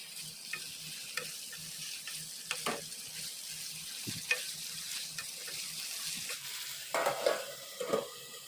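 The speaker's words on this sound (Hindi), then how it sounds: "तो यहाँ पे सब्ज़ी स्लो फ्लेम में पक रही है" Cauliflower and potato curry cooks on a slow flame, with a low steady sizzle broken by scattered clinks and scrapes of stirring, close and fairly quiet, with no voices.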